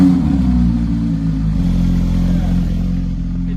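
A Ferrari 296 engine idles steadily and close, a continuous low rumble with a faint ticking noise under it, no talk over it.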